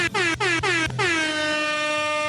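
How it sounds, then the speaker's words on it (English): An air horn blasts loudly: three short honks in quick succession, then one long sustained blare that rings out to the end. "I bring my own air horn still going off."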